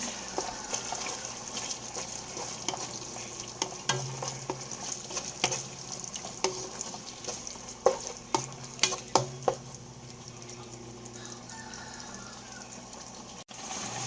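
Ingredients for carbonara being stirred in a pan, a steady scraping and light sizzle running throughout, with a cluster of sharper utensil clacks near the middle and quieter stretches toward the end.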